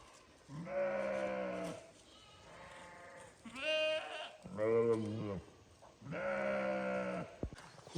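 A flock of sheep and goats belonging to a shepherd at the Baralacha Pass bleats in repeated loud, drawn-out calls, several animals overlapping in bursts close by.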